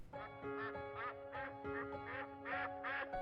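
Khaki Campbell ducks quack close by in a rapid, repeated run of loud nasal calls, about a half dozen bursts with brief gaps between them and no talking.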